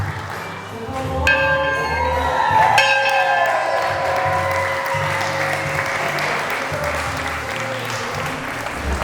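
A bell strikes twice at a wedding ceremony, its bright tones ringing and fading over steady applause and crowd noise.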